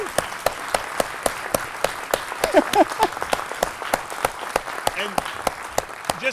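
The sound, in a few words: audience applause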